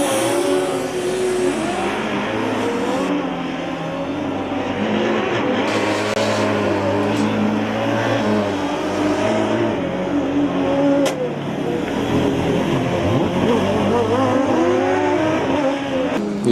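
A Formula Student race car laps the endurance circuit, its engine revving and rising and falling through gears at a steady, fairly close distance, with continuous loud motor noise throughout and no talk.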